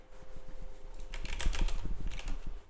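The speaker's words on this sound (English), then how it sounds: "And then I just want to hear what this keyboard sounds like." Fast, continuous typing on a clicky computer keyboard, a dense patter of crisp keystrokes close to the microphone with no voices.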